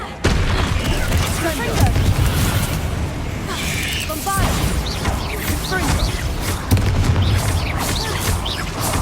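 Confringo and Bombarda spell blasts in Hogwarts Legacy, loud booming explosions and crashing impacts going off repeatedly over a rumbling background, with a voice calling out spell names between the blasts.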